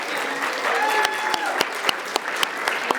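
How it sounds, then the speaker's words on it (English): An audience claps for the artists at an awards finalists event, steady dense applause with scattered sharper claps, full and close throughout. "One more big round of applause for our artists."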